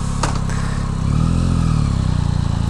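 A 2021 Yamaha Tracer 9 GT motorcycle pulls away, its engine a close, loud, steady throb that rises in pitch as it accelerates, with a brief clatter at the start.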